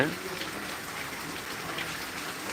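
Heavy rain pours steadily outside in Tangail, a dense, constant hiss of drops on surfaces that holds an even level throughout without letting up.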